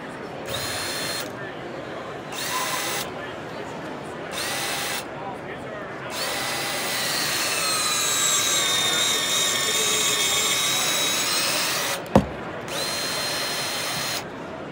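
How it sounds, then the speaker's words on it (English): A Huskie battery-powered hydraulic cutter runs with a loud whining motor hum that pulses on and off, then builds to a sustained drone before a sharp snap as the cut completes, with a short burst of motor afterward. "Once cutter makes its cut complete, it automatically open up to the diameter that you've chosen."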